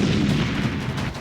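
Artillery blasts and explosions from cross-border shelling on Pakistan along the Jammu and Kashmir frontier, a dense continuous barrage of deep rumbling booms merging together at steady loudness.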